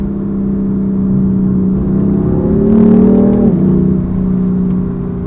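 Inside a BMW M4 driving in sport mode, the engine drones steadily, then swells as revs climb and drops sharply at a gear change, a loud, close tone with no speech.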